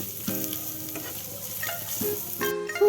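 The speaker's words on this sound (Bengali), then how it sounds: "শুকনো মশলাগুলো দিয়ে আবারও আমি 2 মিনিট ভালো করে ভেজে নিচ্ছি।" Dry spices fry in a pan with a loud, close sizzle for a village-style chicken curry, punctuated by scraping stirs and a few metallic clinks.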